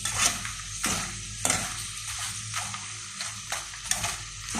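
Macaroni chips fry in a pan of hot oil, a steady sizzle broken by repeated scraping stirs at a regular pace, close and alone.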